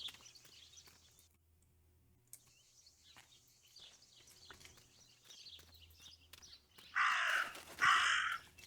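A raven in the game Martha is Dead gives two loud caws near the end, after a stretch of quiet ambient game sound.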